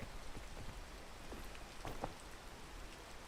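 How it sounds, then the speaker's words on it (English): Steady rain in a video game hisses continuously over the whole stretch, with a few faint droplet ticks and no voices. "I can go up that way and then up once the rain passes"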